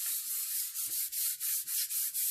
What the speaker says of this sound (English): you have to put some elbow grease in